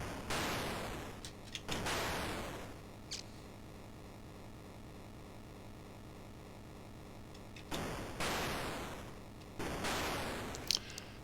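Gunfire from the Atari 8-bit game Space Lobsters comes as several long, hissing white-noise bursts with sharp clicks between them, separated by quieter electronic background hum, faint overall and with no one talking.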